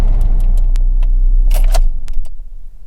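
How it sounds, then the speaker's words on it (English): A car engine idles with a low steady rumble and a few clicks and jingling keys, then the engine note cuts out and fades near the end as the car is switched off. "I'm going to turn off the car"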